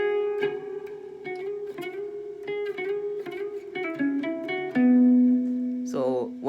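Guitar played up close, a repeated melodic line with picked notes ringing in a steady rhythm, ending in a sustained note that bends with a pitch glide; no talking.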